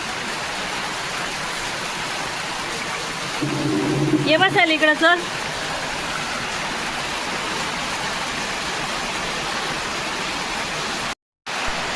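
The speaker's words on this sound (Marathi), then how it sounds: "पाऊस येतोय ना वाजतय आहे पत्र्यावरती" Rain drums on a metal sheet roof in a continuous, even roar that fills the whole stretch, while a person speaks briefly near the start.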